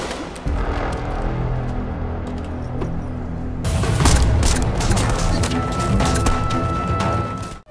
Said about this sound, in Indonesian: Namun tak sengaja para polisi itu mendengar suara tembakan.